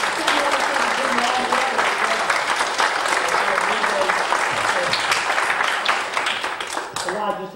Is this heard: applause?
yes